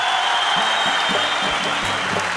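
Audience applause fills a concert hall at an Afghan Star show, a dense steady roar of many hands clapping throughout, loud and continuous.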